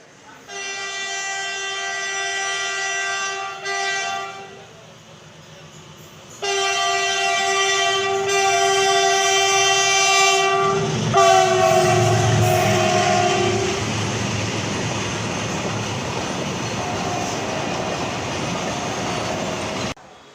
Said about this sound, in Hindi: कोई ना कोई ट्रेन की तो क्रॉसिंग जरूर होने वाली है